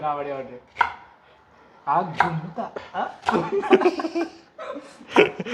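Onions are chopped with a knife on a board in a home kitchen, with short chopping knocks under a voice, talk and laughter.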